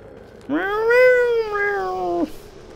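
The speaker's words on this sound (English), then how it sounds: "Meow, meow, meow." A cat meows once in the video game Pathologic 2, a clear, close, drawn-out mew lasting nearly two seconds with a rising then falling pitch.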